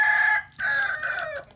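A nearby rooster gives one loud crow, broken into a sustained opening note and a longer, falling second part.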